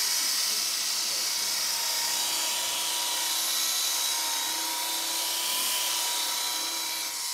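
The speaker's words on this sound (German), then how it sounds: "Das Polieren gleicht schließlich die letzten Strukturunterschiede aus" A rotary polishing machine works over the car paint of a VW Beetle, giving a steady, unbroken high whir with a faint tonal hum that holds even for the whole stretch, with no talking.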